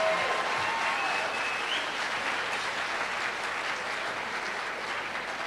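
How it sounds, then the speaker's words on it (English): Graduation ceremony audience applauding the class of 2022 at a physician assistant commencement: dense, steady clapping from a large crowd that holds evenly for several seconds with no talk over it. "Let's have another round of applause for the class of 2022."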